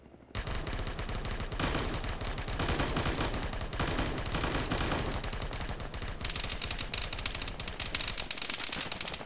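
Sustained, rapid automatic gunfire in ArmA 3 hammers almost without pause for nine seconds, loud and dense, like machine guns firing on a circling target with several weapons overlapping.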